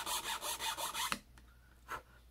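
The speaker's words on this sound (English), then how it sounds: "I'm going to cut one notch, simply filing it into position" Rhythmic rasping strokes of a chainsaw file cutting a notch into wood, about five quick passes, followed by a few faint scrapes and a short final stroke in near silence.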